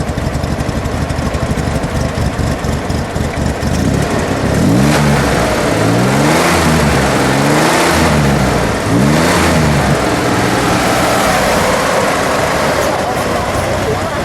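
A 1966 Chevrolet Corvair Corsa with its 140 flat-six runs at a rough idle, then is blipped through several rising and falling revs in the middle before settling back to a steady idle, close and loud.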